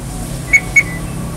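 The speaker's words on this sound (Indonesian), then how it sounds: "jadi kita bisa ngatur suara beep dari alarm si Yaris Lexus ini" Two short, sharp beeps in quick succession from a 2020 Toyota Yaris facelift TRD Sportivo alarm set to the standard tone, clear and close above a low steady background hum.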